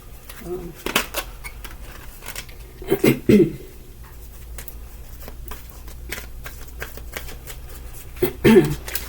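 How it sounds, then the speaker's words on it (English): A deck of tarot cards being shuffled by hand, giving soft papery riffles with a few louder bursts of card noise near the start, middle and end, all fairly close and otherwise quiet. "before I started to shuffle, the let go card was actually there"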